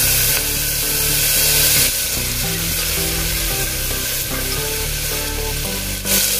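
Tomatoes fry in a hot pan with green chillies and onions for a masoor dal and methi sabzi, making a loud, continuous sizzle that stays steady throughout with no voices.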